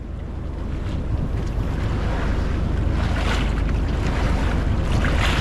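Strong ocean waves in Surigao crash and roar continuously under gusting wind buffeting the microphone, loud and close throughout.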